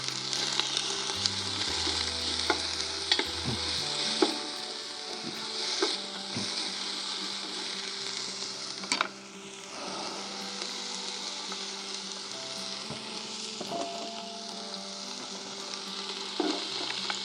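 Onions sweating in a frying pan for venison stroganoff, giving a steady, even sizzle with scattered clicks and light utensil knocks throughout, close and fairly quiet, with no talking.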